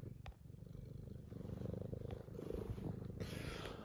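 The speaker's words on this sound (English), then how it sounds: "there's my cat" A house cat purrs steadily and close up, a low rhythmic rumble pulsing on each breath, quiet and unbroken apart from a faint click or two.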